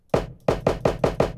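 Kick drum sample processed with EQ that boosts the mids and cuts the lows, struck six times in a steady rhythm: punchy, close, mid-heavy thumps with little low-end weight, each decaying quickly, alone without talk.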